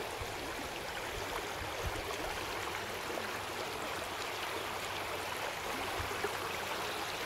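The flooded Wardha river rushes in a steady, broad roar of flowing water that stays constant and moderately distant, with no voices.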